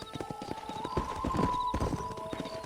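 Horse hooves clip-clop steadily in the Red Dead video game, a close, rhythmic trotting beat with an occasional whinny, over a quiet in-game soundtrack.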